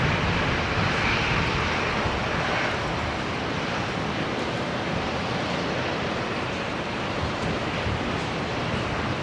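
A Qantas airliner arriving from Sydney lands at Brisbane International Airport, a loud, steady broadband jet roar heard from nearby outdoors that holds for several seconds without fading, with no talk over it.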